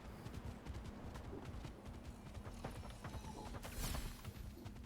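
Video game horse hooves galloping in a steady clip-clop rhythm, faint and continuous throughout, with soft background ambience and no voices.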